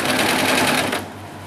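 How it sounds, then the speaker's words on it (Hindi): A sewing machine runs steadily, stitching a straight seam down the centre of net fabric for a small double-layer doll dress, then stops after about a second, leaving a faint hum. "और मैं एक सिलाई लगाऊंगी"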